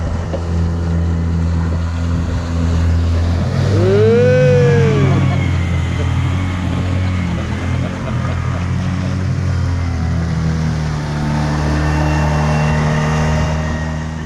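Steady low engine drone of a motorboat with wind buffeting the microphone, a brief rising whine near the start, continuous throughout.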